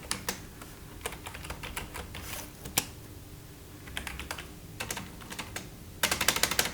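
Rapid clicky keystrokes on a budget wired keyboard and mouse combo come in irregular bursts, close and crisp, ending in a fast flurry of typing.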